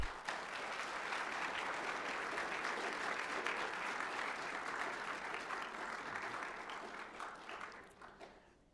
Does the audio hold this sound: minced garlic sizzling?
no